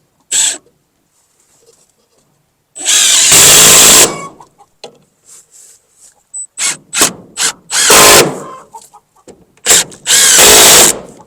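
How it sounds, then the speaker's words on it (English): A power drill drives screws into a board while an automatic chicken door is mounted: several loud close whirring bursts of varying length, with short pauses and quieter trigger taps between them. "now all we need to do is put these screws in"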